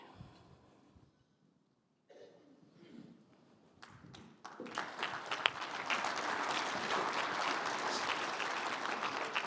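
Applause from an audience at a company event after a guest is invited back to the stage. Quiet room noise, a cough and a few taps come first, then clapping breaks out about halfway through and builds into a steady, fairly loud ovation.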